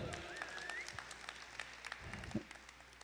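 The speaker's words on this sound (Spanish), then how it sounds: "¿Por qué no dan fuerte aplauso a nuestros pastores que están acá de este lado?" Church congregation applauding their pastors, a steady clatter of clapping spread through the room with a voice briefly audible over it.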